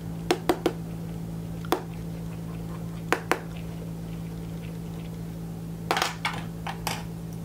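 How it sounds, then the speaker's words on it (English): Box cutter blade scraping across the glass screen of an LG Google Nexus 4 phone, a series of sharp, close scratches in short bursts, a few isolated strokes followed by a denser cluster, over a steady low hum. "Box cutter."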